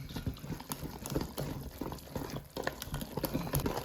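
Jalapeño cornbread batter thinned with buttermilk is stirred in a bowl, making close, wet, irregular slaps and squelches in quick succession with no talking.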